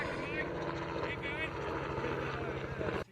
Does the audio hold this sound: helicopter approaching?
yes